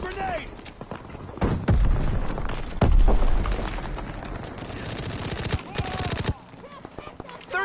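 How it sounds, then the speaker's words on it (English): Grenade blasts and rapid gunfire from a Call of Duty WW2 video game match, loud and dense, with heavy booming bursts around the midpoint and continuous shooting throughout. "Tossing grenade!"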